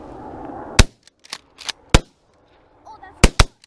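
Shotgun blasts during a dove hunt, several sharp loud cracks in quick succession, some in close pairs, fired nearby in the open, with people talking between shots.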